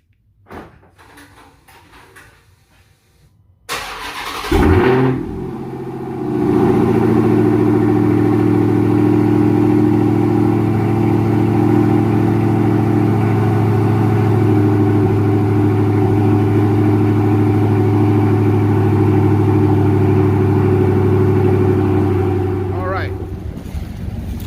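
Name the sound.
2021 Dodge Charger Hellcat cold start, muffler delete exhaust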